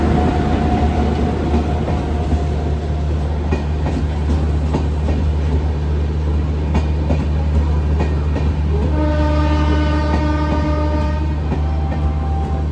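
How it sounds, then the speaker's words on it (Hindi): The Dehradun–Tanakpur Express, hauled by a WAP-7 electric locomotive, rumbles past close by arriving at a station, with steady clattering wheels and a loud horn near the end; no voices. "और आगे आ रही है देहरादून टनकपुर एक्सप्रेस"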